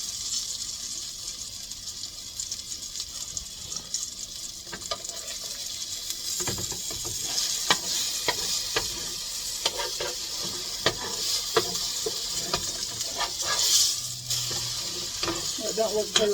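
A banana and egg pancake fries in a pan with a steady close sizzle, broken by occasional soft scrapes and clicks from a utensil throughout.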